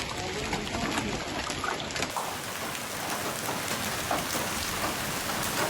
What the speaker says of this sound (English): Hail struck violently as the storm swept through central Texas, posing danger to drivers and vehicles.